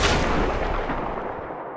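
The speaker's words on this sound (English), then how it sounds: "your dude gets shot right in the chest with a big 50 cal" A .50 caliber weapon fires in Battlefield 3, heard as a single loud, close, booming report that rings out and decays over under two seconds.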